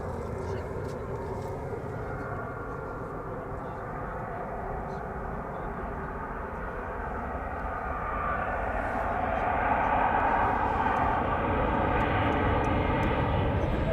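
Airliner landing at a wintry Amsterdam Schiphol Airport, a broad engine roar heard from a distance that swells louder toward the end, while a voice talks intermittently over it.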